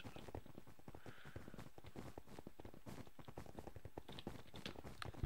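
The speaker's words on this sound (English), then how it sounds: "No, they're just horses." Horses walk in the video game Minecraft during a clay soldiers battle, their hooves making a fast, dense, even patter of soft clopping steps that runs throughout at a quiet level.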